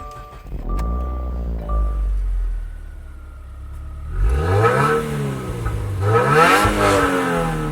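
A 2015 Subaru WRX is quiet at first with a faint electronic chime, then its engine starts and revs sharply twice, rising and falling close by with a loud, throaty surge.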